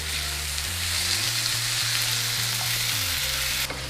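Flora plant-based butter melts and sizzles in a hot pan, a steady, close frying hiss that holds evenly throughout with a faint low hum beneath.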